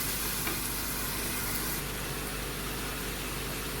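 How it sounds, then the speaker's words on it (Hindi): Chicken biryani ingredients sauté in a pan, giving a steady, dense sizzle and frying hiss that runs unbroken throughout. "अभी इनको मैं 4 से 5 मिनट ऐसे अच्छे से भून के फिर मसाला डालूंगी।"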